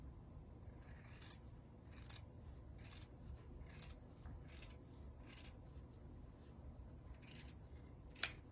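Scissors trim excess tinsel craft material for a snowman decoration, a series of soft, close snips and rustles spaced about a second apart over a quiet room, ending with a sharp little click.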